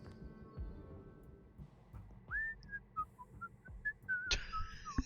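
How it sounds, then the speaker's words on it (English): Leonard, a character in the video game Whispers of a Machine, whistles a short, faint tune of clear separate notes that starts partway through over a soft background, with a brighter flourish near the end. "he's Leonard, whistling?"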